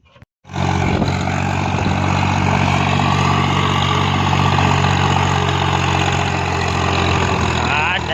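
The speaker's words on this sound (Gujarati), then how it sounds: "હા તારી હો આવ્યું ટ્રેક્ટર અમારું" A tractor engine starts and settles into a steady, loud, close idle with a deep throbbing rumble that runs unbroken.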